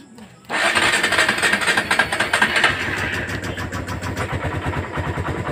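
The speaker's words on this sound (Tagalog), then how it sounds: "Start natin yung motor." A motorcycle engine starts abruptly from quiet, revs briefly, then settles into a close, loud, pulsing idle with a rhythmic putter.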